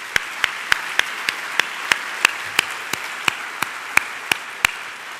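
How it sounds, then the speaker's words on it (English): Single pair of hands clapping in a slow, even rhythm, about sixteen sharp claps spaced roughly a third of a second apart, close and distinct against a quiet hall background during a university convocation ceremony. "please join me in a round of applause for all of our faculty accomplishments"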